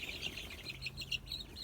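Chickens clucking and chirping inside a walk-in garden chicken coop, with soft, fairly distant bursts of calls in an irregular rhythm over quiet background noise.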